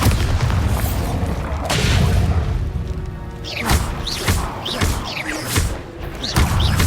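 Loud, heavy booming blasts from the Bombarda spell in Hogwarts Legacy, several deep explosive thuds and crashes in quick succession amid combat effects, with no talking.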